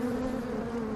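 Honeybees buzzing steadily and close, a dense continuous drone with no pauses and no voices over it.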